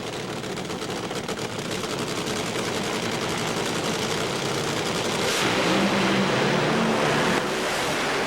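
Roaring drag racing engines at the 1999 NHRA Pontiac Nationals in Columbus, a loud continuous wall of sound that swells further partway through as the cars launch and accelerate down the strip.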